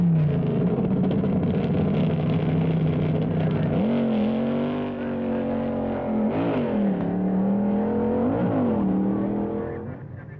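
Race cars making practice runs at the 1962 U.S. Nationals drag racing event: a loud, sustained engine drone with repeated revving surges rising and falling in pitch, heard alone without talk.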